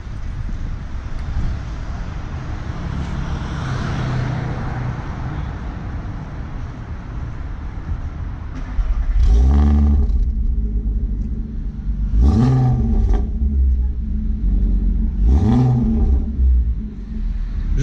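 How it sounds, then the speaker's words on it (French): A Volkswagen Golf 4 R32 engine fires up and settles into a loud idle, then gives three sharp revs a few seconds apart, heard from outside the car over steady outdoor rumble and wind. "il faut quand même que j'entende de l'extérieur le démarrage"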